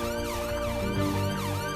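Ambulance siren wailing in a continuous rising and falling sweep, moderately distant and steady throughout, with no voices.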